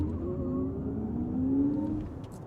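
Audi RS e-tron GT Performance electric car launching hard from a standstill, a smooth rising electric motor whine and tyre-road roar heard from inside the cabin, growing louder then easing off.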